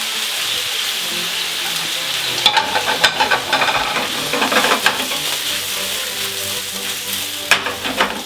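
Garlic butter sizzles steadily in a pan with a dense frying hiss throughout, broken by a few sharp scrapes and clicks of stirring; close and continuous, with no talking.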